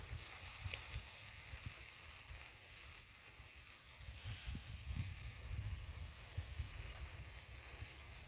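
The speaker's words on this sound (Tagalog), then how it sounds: "Nag-barbecue na tayo." Barbecue sizzling on a grill, with sauce brushed on, a soft steady crackling hiss with low rumbling underneath, quiet and continuous throughout.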